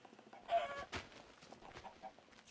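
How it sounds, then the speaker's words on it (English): A Minecraft chicken clucks nearby, a few short, faint clucks in quick succession with no speech. "Oh, there's a chicken."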